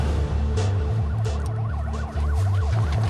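A police car siren wails, sweeping up and down repeatedly over a loud, rumbling low-frequency background, with no one speaking.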